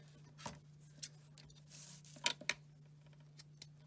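Scissors trimming paper ribbon tails for a handmade card, a handful of crisp short snips spaced irregularly, close and quiet over a faint steady hum, with no voices.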